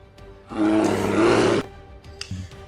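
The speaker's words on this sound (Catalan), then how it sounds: "el sentiu bramar com si no hi hagués un demà" A creature in a tabletop fantasy role-play game gives a single loud roar, a rough, sustained growl lasting about a second, followed by softer rumbles and clicks.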